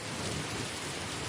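Audio-drama rain effect, a dense, steady hiss of heavy rainfall filling a short stretch, loud and unbroken, with no voices.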